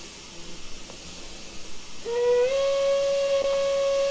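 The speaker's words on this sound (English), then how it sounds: "That's an old Trainz whistle that's been around for a minute." After two seconds of soft hiss, an old steam locomotive whistle from Trainz Simulator sounds for a WVRR 4-6-0. It slides slightly upward into a loud, steady, sustained tone that carries on to the end.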